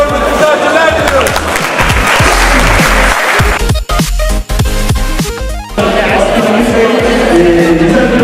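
Crowd applause at a holiday resort welcoming a newly arrived guest from Iraq, loud sustained clapping mixed with voices and a talker over a microphone, briefly dipping before resuming.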